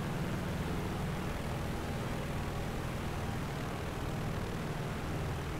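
Steady, dense engine drone of a golden naval fighter plane in the game War Thunder fills the whole stretch evenly, loud and unbroken with no talk over it.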